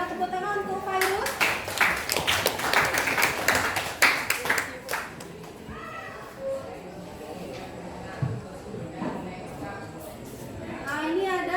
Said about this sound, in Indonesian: Tepuk tangan untuk Fairuz.